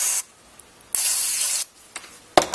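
Short bursts of aerosol cleaner spray onto the switch contacts of a NuTone Model 2570 intercom: a few close, bright hissing sprays of differing length, separated by brief pauses.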